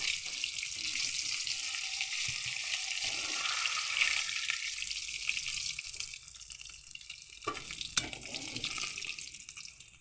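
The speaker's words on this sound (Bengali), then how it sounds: "একবারে আমার সব মাছগুলো ভাজা যাবে না তাই আমার দুবারে ভাজতে হবে চলো ভেজে নিই" Fish fry in a hot pan with a constant crackling sizzle, close and fairly quiet, with a few brief clinks and stirring sounds and no talking.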